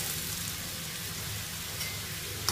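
Ingredients for a homemade health powder, seasoned with asafoetida and pink salt, sautéed lightly in a pan, giving a steady soft sizzle and crackle throughout, with a small clatter near the end.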